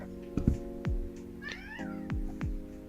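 A pet cat waiting for dinner gives several short, insistent meows in quick succession, fairly faint and close, with a low hum underneath and no talking.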